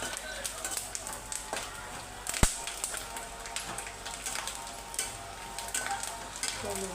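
Grated coconut roasts in a pan with a steady close sizzle and frequent light scraping from stirring, one sharp knock partway through, and faint voices in the background.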